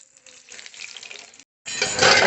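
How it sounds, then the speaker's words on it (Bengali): Marinated chicken pieces fry in hot oil, a steady crackling sizzle that quiets briefly, drops out for a moment, then returns louder and denser at the end, close and without speech. "এবার তেলের মধ্যে চিকেনগুলোকে ভেজে নিচ্ছি"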